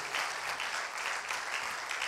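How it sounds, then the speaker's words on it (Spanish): A church congregation applauds steadily during a Spanish-language service, a dense, even wash of clapping that holds at moderate level for the whole stretch without any voices rising above it. "Un aplauso fuerte por la madre"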